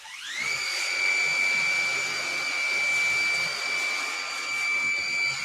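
A Maxflow DDM machine running at 20 amp through a nozzle gives a steady, loud, high-pitched whirring whine that ramps up within the first half second and then holds constant over a faint background hiss.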